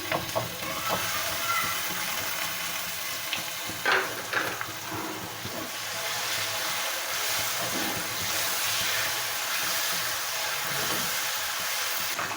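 Minced meat (qeema) with turmeric and whole garam masala frying in a pan, a steady close hiss with a few clinks and scrapes of stirring early on, continuing evenly throughout.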